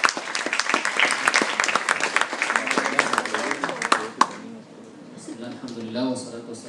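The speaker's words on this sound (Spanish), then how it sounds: "lo recibimos con un aplauso" Audience applause welcoming a speaker at an interreligious and intercultural panel on religion, science and philosophy: dense, steady clapping for about four seconds, then fading as a voice begins talking.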